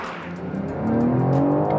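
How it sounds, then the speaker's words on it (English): A 2025 BMW M4 Competition's petrol engine revs close by, its steady drone rising in pitch and swelling louder about halfway through. "I wish the noise would be a bit more vocal to match the potent punch of the petrol engine"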